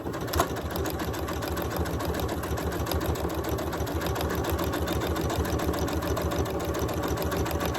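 A sewing machine runs steadily, stitching test sample stitches on scrap fabric in a continuous, even mechanical whir with a rapid needle rhythm, close and moderately loud throughout, with no talking.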